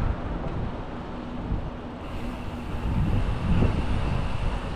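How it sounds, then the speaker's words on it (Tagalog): Wind buffets a microphone during a bicycle ride in Bahrain, a steady low rumbling roar with faint traffic-like noise beneath it that grows slightly louder toward the end. "Mahangin."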